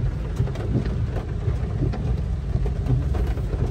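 Rain falls steadily outside a BYD car dealership in Balintawak, a dense, even hiss with scattered droplet taps and a low rumble underneath, continuous throughout.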